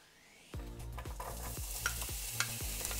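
Onion frying in one to two spoonfuls of oil in a pan, a sudden steady sizzle starting after a quiet moment, with repeated scraping stirs of a utensil across the pan, close and uninterrupted by speech.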